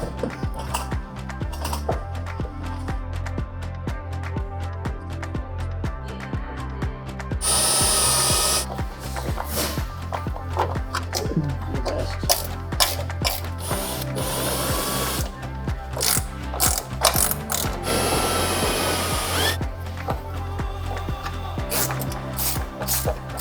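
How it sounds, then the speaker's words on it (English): An M5 bolt is driven through a Fiamma F45S awning bracket, a steady run of rapid, close ratchet clicks and tool whirring that continues for over twenty seconds with brief louder stretches. "screw through the awning to install the M5 bolt that comes with your hardware kit"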